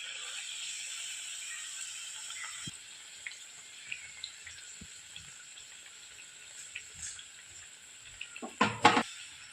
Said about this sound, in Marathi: तेल छान तपलेलं आहे आता आपण पुऱ्या तळून घेऊया मीडियम फ्लेमवरती आपल्याला पुऱ्या तळून घ्यायच्या आहे